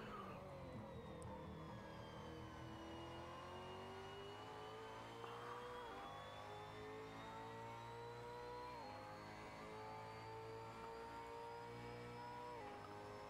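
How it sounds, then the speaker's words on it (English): A V8 Supercar engine heard on board around Bathurst in a racing video game, screaming at high revs with a steady drone and periodic upshifts, constant and uninterrupted. "Let's just take a moment to really enjoy that engine sound."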